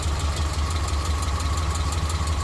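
A lifted 2002 Subaru Impreza wagon engine with a slight exhaust leak idles with a steady low rumble and a faint rapid ticking puff layered over it, close and continuous.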